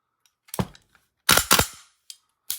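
Sharp mechanical cracks from an AR-15 airsoft gas blowback rifle with a steel chamber dry firing, a single shot followed by a quick double burst and a couple of lighter clicks, crisp and close with no talking.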